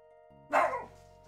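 A dog in a video game gives one short, sharp bark at a door, rising over a quiet game-music backdrop and cutting off quickly.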